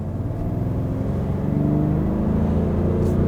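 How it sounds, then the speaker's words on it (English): A Kia Mohave diesel SUV engine with an added sound generator drones as a deep, steady rumble that swells slightly in intensity, close and continuous with no talk. "Kia also have added sound generators"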